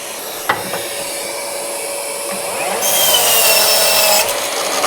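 A shop vacuum switched on by remote while attached to a saw in a woodworking shop, spinning up with a rising whine and steady rushing airflow after a sharp click, growing louder partway through.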